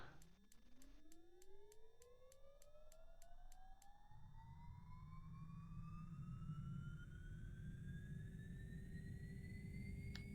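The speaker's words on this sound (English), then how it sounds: "We're going to start the right engine first." Turboprop engine spooling up during the right engine start of a Carenado B1900 in a flight simulator, a steady whine climbing in pitch over ten seconds with a low rumble building underneath and a few soft clicks early on.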